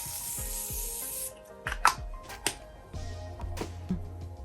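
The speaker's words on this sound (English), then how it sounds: "It's the Morphe Mattifying Continuous Setting Mist." A Morphe Mattifying Continuous Setting Mist gives a soft, fine spray hiss for just over a second, followed by quieter rubbing and handling noises at close range.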